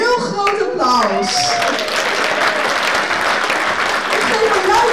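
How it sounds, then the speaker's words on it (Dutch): Loud applause from the seated audience at a city prize award ceremony in Almelo, honouring the staff of the winning business, with a voice over the opening moments and then dense, steady clapping filling the rest. "Ik heb dus voor alle medewerkers een heel groot applaus."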